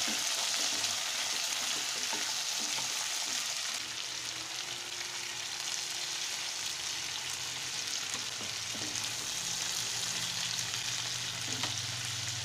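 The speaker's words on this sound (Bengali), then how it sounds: "এবার আমি এগুলো ছেড়ে দেবো। আলু আর ঝিঙে" Potato and ridge gourd fry in tempered oil, giving a continuous dense sizzle that stays steady and fairly close, with faint stirring clicks and no talk.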